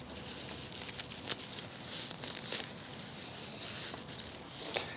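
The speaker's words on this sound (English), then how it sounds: "I'm going to cut them right down to the ground" Chives being cut right down to the ground outdoors, a steady crisp snipping and rustling of leaves close by, with repeated cuts rising over a continuous crackly background.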